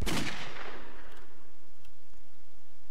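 Gunfire in the Brick Force video game: a loud burst of shots at the start, then a fading tail with a few faint later reports.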